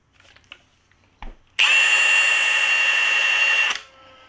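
Milwaukee 1-inch cordless impact wrench running on its lowest power setting, a single sustained burst of about two seconds with a buzzing hammering whine, loud and close, after a few faint clicks.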